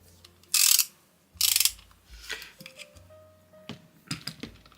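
A Parkside ratchet wrench gives two short bursts of rasping clicks, followed by scattered lighter clicks and mechanical ticks, close and alone.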